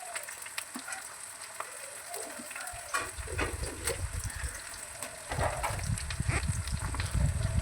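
Garlic, onion, ginger, green chilli and cashews frying in oil for an egg korma, starting as a faint sizzle that swells into a loud, close bubbling crackle as more goes into the pan.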